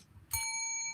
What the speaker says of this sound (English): y'all just need to give Nikki a sound, like, or hit a bell